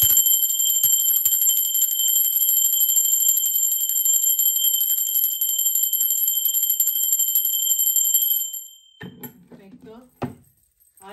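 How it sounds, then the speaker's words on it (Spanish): A bell rings with a bright, sustained metallic tone for about eight seconds during a tarot reading, then cuts off and leaves quieter scattered sounds. "Ahora sí, va campana."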